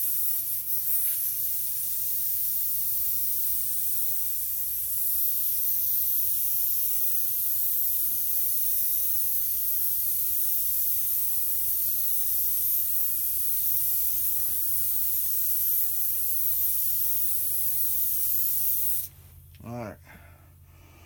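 A steady airbrush sprays a second coat of paint, a constant close hiss running nearly unbroken for about nineteen seconds before cutting off, followed by a few soft clicks.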